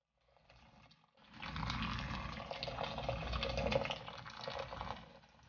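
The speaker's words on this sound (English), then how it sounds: "We are going to put our boiling water" Boiling water pours from a kettle into a bowl of salt for making mozzarella. A faint trickle comes first, then a sustained, fuller rushing pour that runs for several seconds before stopping.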